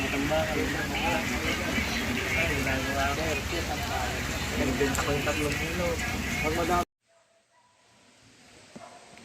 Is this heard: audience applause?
no